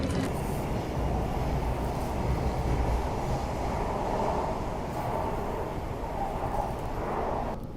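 Steady low rumble of a metro train in motion, a continuous rolling drone with rattling undertones and no voices.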